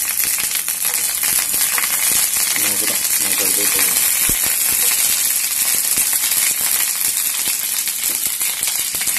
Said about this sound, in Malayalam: ചട്ടി നന്നായിട്ട് ചൂടാണ്ട് അതിലേക്ക് വെളിച്ചെണ്ണ ഒഴിച്ചു കൊടുക്കാനുണ്ട്